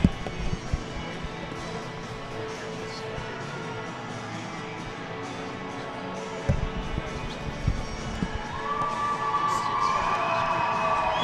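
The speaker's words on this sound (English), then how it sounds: "the cheer is still erupting from the crowd" Crowd cheering and shouting fills the arena after the women's box lacrosse bronze medal game between Haudenosaunee and Australia at the 2024 World Lacrosse championship in Utica, a steady roar swelling louder toward the end with whistles and shrieks.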